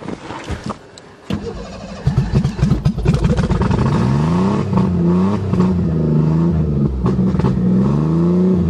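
A Taurus convertible's engine runs steadily after a cold start in deep snow, a loud close idle with an uneven, rough beat that settles into a continuous drone.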